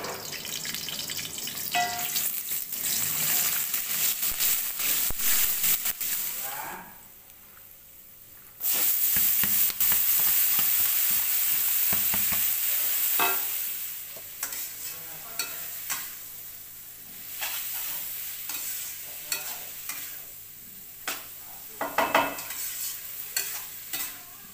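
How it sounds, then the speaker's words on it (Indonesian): Small anchovies fry in oil in a pan, giving a steady close sizzle with occasional stirring scrapes; a sudden quiet gap interrupts it before the crackling returns, louder then softer, with pops and clatter near the end. "Kita goreng."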